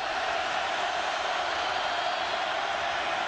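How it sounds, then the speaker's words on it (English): A football stadium crowd at a 2009 Oklahoma at Nebraska college game roars in a steady, dense wash of cheering that holds loud and unbroken throughout, with no distinct voices standing out. "Crowd coming to life."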